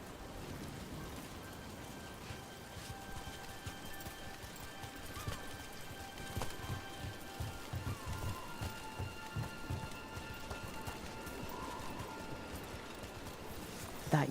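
Steady rain falls in the video game Dragon Age: The Veilguard, a continuous soft patter with muffled hoof-like clops and a faint low rumble underneath.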